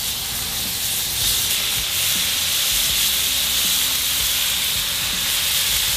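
Flank steak pinwheels seared face side down in hot butter in a pan, giving a steady, loud hiss and sizzle that runs unbroken throughout.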